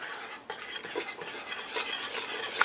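Mulberry jam with sugar and pectin being stirred in a large pan, a steady, close scraping and swishing of the spoon through thick, bubbling fruit that runs unbroken and alone.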